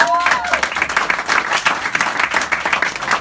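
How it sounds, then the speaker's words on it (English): Audience at a live comedy show in a Budapest bar bursts into loud, sustained applause with scattered cheers and whoops, clapping filling the room for several seconds. "Big round of applause for your other acts tonight."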